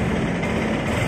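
Honda Vario 150/125 LED scooter engine with a weak fuel pump, bogging when throttled: a steady, close, rough low engine drone with no rise in revs, with no talk.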